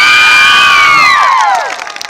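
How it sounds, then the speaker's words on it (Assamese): An audience at a live Assamese music show roars in a loud burst of cheering and whooping, with shrill high voices sweeping down, then the noise fades out quickly over about two seconds. "এটাই কাৰণে এটা ডাঙৰ হাত চাপৰি হৈ যাব লাগে"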